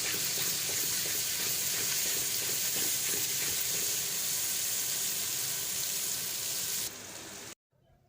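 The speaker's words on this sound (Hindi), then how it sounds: "उस ऑयल में हमने 1 चम्मच ज़ीरा डाला है और फिर में 1 चम्मच हम अदरक लहसुन का पेस्ट डालेंगे" Cumin seeds and ginger-garlic paste fry in hot oil for a fish curry, a steady broadband sizzle that holds loud and even, then drops abruptly near the end to near silence.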